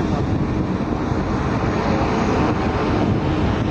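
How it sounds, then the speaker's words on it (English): Loud, steady roar of a Cessna 172 propeller plane engine as it lands, with rushing wind buffeting the microphone throughout. "This pilot was landing his Cessna 172 plane"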